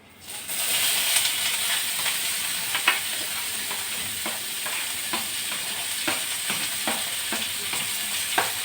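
Mustard seeds crackle and pop in hot oil over a continuous sizzle, with scattered sharp spits close by.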